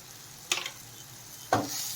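Vegetables for jowar roti upma being sautéed in a pan, with two bursts of stirring and sizzle about a second apart over a steady low hiss of cooking.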